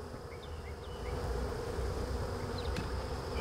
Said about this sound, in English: They got all the foraging bees flying on the front of the hive